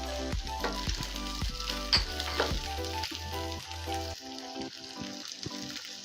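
Cauliflower, green peas and sweet corn fry in a pan for ragi soup, sizzling steadily at moderate volume while repeated soft clicks and taps of stirring cut through, with no voice.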